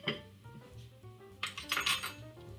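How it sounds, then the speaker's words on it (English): Spoon clinking and scraping against a bowl while stirring ingredients with a heaping teaspoon of sugar, several close, bright metallic knocks, busiest near the end, with no talking. "we're going to stir these ingredients up"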